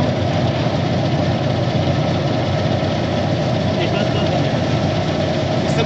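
A metal lathe runs continuously during taper turning with the compound rest slide, giving a loud, steady mechanical drone with a constant low hum and a broad whirring noise, unbroken throughout.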